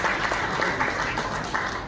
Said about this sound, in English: So, ladies and gentlemen, have a big round of applause for Mr. Sudhir Nautiyal.